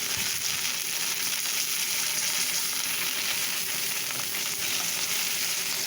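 Meat searing in a hot pan gives a loud, continuous close-up sizzle with crackling spatter and occasional stirring or shifting sounds, holding steady throughout.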